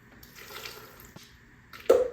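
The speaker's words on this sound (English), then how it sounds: "Pour some of the filtered water in there." Filtered water pours into a smoothie blender jar, a soft trickling splash building to a louder, close gush near the end.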